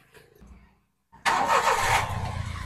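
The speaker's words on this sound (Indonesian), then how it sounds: "ini adalah bunyi normal dari suara mesin ya guys" A 2014 Daihatsu Xenia engine in normal condition cranks briefly after a quiet pause, then catches and roars into a steady, loud idle close by.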